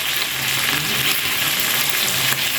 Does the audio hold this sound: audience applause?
no